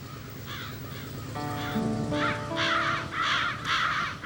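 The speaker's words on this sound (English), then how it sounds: "Crows, that is. One of the largest rookeries is right here on Canada's 42nd parallel." Crows cawing at a large rookery near Essex, Ontario, a series of harsh, loud caws repeating in quick succession over a steady hiss of background noise.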